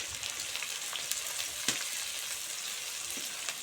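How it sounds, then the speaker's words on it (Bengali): Four medium onions, chopped, fry in hot oil with a steady, faint hiss and crackle, broken by a few soft scrapes of stirring. "ভালো করে নেড়ে চেড়ে পেঁয়াজটা ভেজে নেব"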